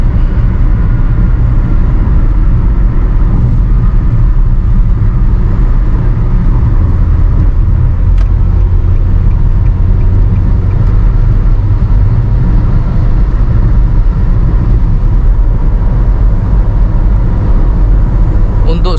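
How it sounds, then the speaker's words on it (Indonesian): Steady broadband road and tyre rumble inside a Nissan Grand Livina automatic cruising at speed on a toll highway, a constant low drone with mild wind hiss, moderately loud throughout and with no talk. "suara road noise masih aman-aman aja ya, masih nggak terlalu berisik"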